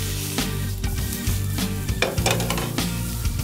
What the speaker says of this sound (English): now we're gonna saute my mushrooms. Hear that sizzling noise?